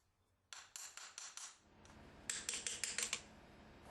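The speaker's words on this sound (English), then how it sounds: "With the foot cleaned and the shoe fitted, Jim nails the shoe on" A farrier drives nails through a graduated horseshoe into a horse's hoof, giving a close run of sharp metallic taps in two bursts of roughly five to six blows each, with a short pause between them.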